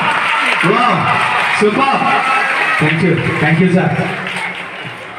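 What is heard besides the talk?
audience applauding a young performer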